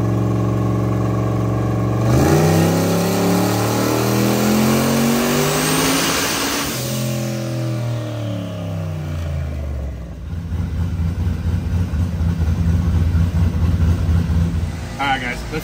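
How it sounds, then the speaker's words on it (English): A race car engine revving hard on a dyno during pre-race testing, climbing to a loud, close roar, dropping off as the throttle lifts, then settling back into a rough idle. "it spun hard. I had to lift because it was shaking the tire on the dyno damn near"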